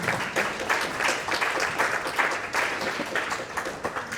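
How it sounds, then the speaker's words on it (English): A crowd at a county candidate forum applauds steadily for several seconds, dense overlapping claps at moderate volume with no voices on top. "Let's give our candidates a round of applause."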